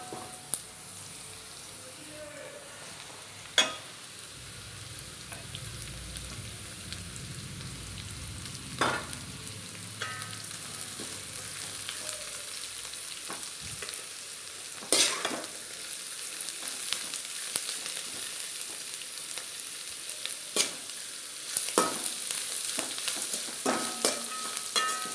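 Home-grown greens are stirred into sautéed onions in a pan for Tamil keerai poriyal, giving a soft, steady sizzle with occasional sharp scrapes and clicks of a spoon against the pan.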